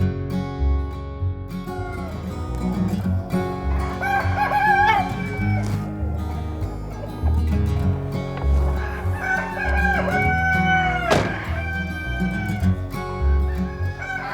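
Several Penedès roosters crow loudly in overlapping calls, with hens clucking around them in a busy farmyard.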